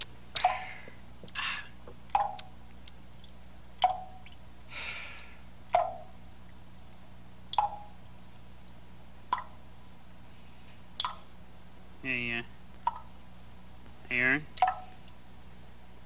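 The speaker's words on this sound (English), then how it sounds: "Sounds like water dripping" A faucet drips steadily at night in a quiet bedroom: single clear drops land about every one to two seconds, close and distinct, with two short warbling sounds near the end.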